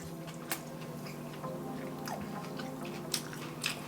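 Quiet close chewing of vegan pulled pork made from banana peel, soft wet bites and mouth sounds with a few sharper crunchy clicks scattered through, no talking.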